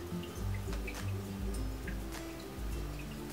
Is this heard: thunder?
no